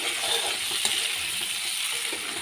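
Vegetables with red chili frying in a pan, a steady close sizzle with faint stirring scrapes throughout.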